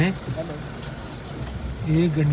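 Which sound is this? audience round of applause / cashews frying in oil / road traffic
road traffic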